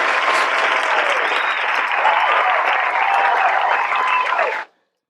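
A crowd applauds steadily and loudly for several seconds, a dense wash of clapping that cuts off abruptly at the end.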